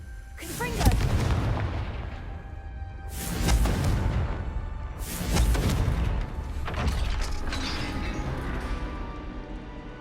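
Fire-spell explosions in the Hogwarts Legacy video game: several loud, booming blasts burst one after another, each trailing into a rumbling crash, with debris and magical whooshes between them.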